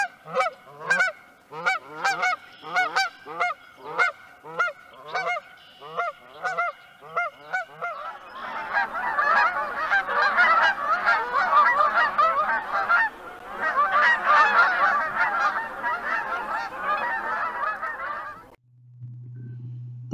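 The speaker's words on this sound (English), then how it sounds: "I'm going to play the call of the Canada goose," Recorded Canada goose calls play loud and alone: a long series of rhythmic honks at first, then a dense overlapping flock chorus of honking that runs for several seconds before cutting off.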